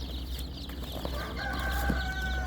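Thin, high-pitched peeping from young laying-hen chicks, a few drawn-out calls heard fairly close over a low, steady background hum.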